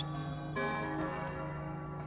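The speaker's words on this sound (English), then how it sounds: "The bell!" A bell tolls in the Kingdom Hearts: Chain of Memories video game, a sustained ringing tone that swells midway and hangs over steady game music with no talk.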